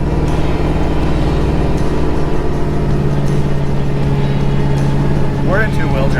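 A vehicle engine chugging hard in two-wheel drive, a loud, steady low rumble close by, with a brief squeal near the end.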